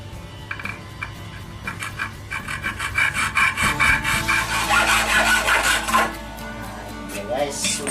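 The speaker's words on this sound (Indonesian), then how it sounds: "Oke, langsung kita potong dengan gergaji besi guys." A hacksaw cuts through a steel bar in rapid back-and-forth rasping strokes, close and loud, the strokes speeding up and growing harsher midway before easing off.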